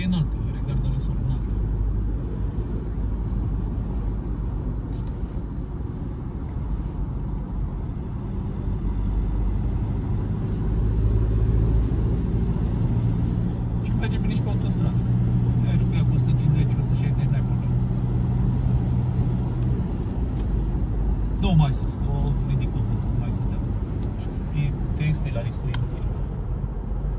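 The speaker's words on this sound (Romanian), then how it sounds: "Se aude motorul, într-adevăr, na, e utilitară." Volkswagen Amarok 2.0 TDI diesel pickup with manual gearbox, heard from the cabin while driving: a steady low engine drone and road rumble throughout, with people talking over it.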